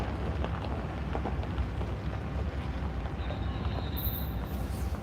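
Norfolk Southern locomotive 4849 sitting with its train, a steady low rumble of idling diesel and rail noise continuing throughout at moderate distance, with a faint high whine near the end.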